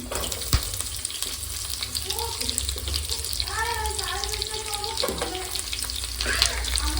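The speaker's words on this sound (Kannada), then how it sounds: "ಎರಡೂ ಜೊತೆಗೆ ಫ್ರೈ ಮಾಡ್ಕೊಳ್ಳೋಣ ಒಂದು ಸ್ವಲ್ಪ ಕರ್ಬೇವು ಮತ್ತು ಒಂದು ಸ್ವಲ್ಪ ಫ್ರೈ ಆದಮೇಲೆ ಅದಕ್ಕೆ ಈರುಳ್ಳಿ ಹಾಕೋತಾ ಇದ್ದೀನಿ" Onion and curry leaves frying in a pan, a soft steady sizzle with occasional stirring scrapes and clatter, fairly quiet and close, with some faint background noise.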